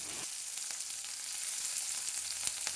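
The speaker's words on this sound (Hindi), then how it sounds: "इसको अच्छे से चला लेंगे ताकि ये चिपके नहीं" Green chillies frying on a flat iron tawa, giving a soft, steady hiss of sizzling oil with a few faint stirring touches and no voices.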